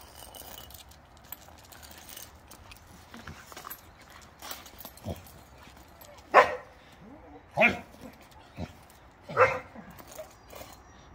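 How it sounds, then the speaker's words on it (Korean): A dog barks in several separate bursts outdoors, moderately loud against a low background rumble, with faint voices and other light sounds in between. "누가 짖는 거야?"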